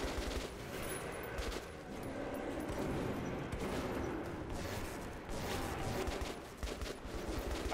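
Gunfire from a first-person shooter, Metro 2033 Redux, with dense overlapping shots and bursts running throughout at steady loudness, busy and continuous rather than isolated.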